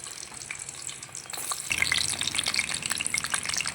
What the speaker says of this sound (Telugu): ఆయిల్ హీట్ కదా ఫ్రెండ్స్ వంకాయలన్నీ వేసేద్దాం